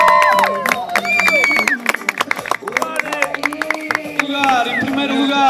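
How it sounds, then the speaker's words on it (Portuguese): Crowd applause and cheering at an athletics awards ceremony for the athletes, steady and fairly loud throughout, mixed with an announcer's voice over a loudspeaker and crowd noise. "Mariano Marques, uma salva de palmas."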